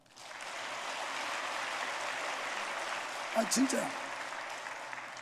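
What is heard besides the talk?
church congregation applauding the choir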